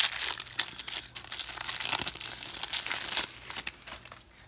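Foil wrapper of a Magic: The Gathering card pack being torn open and crumpled, a steady, close, busy crinkling and tearing lasting several seconds with no talk.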